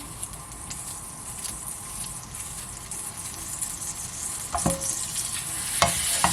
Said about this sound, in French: on fait fondre le beurre. Tout ça à feu vif